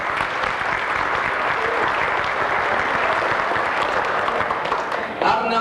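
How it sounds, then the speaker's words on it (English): An auction audience at a Hall of Fame event breaks into steady, full applause after an item is sold. The clapping stays even throughout, ending with a small swell near the close. "Give him a big round of applause."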